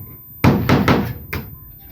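Nails are hammered into wooden planks while a house is being built: four close, heavy blows in an irregular rhythm, nearby and solid.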